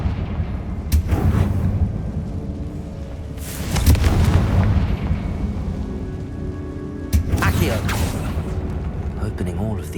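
Three loud blasting-curse explosions from Confringo in Hogwarts Legacy burst one after another, each a booming crack with a rumbling tail over steady game ambience, with some speech mixed in.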